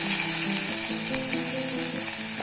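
Onion sizzling in hot oil in a home kitchen pan with cumin and mustard seeds, a steady close hiss with faint crackles throughout.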